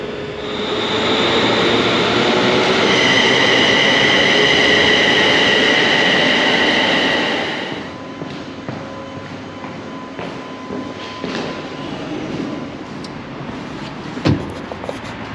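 A train rumbles and squeals loudly close by near Gilmour Street station in Paisley, then fades to a quieter rolling drone with a few clanks and knocks.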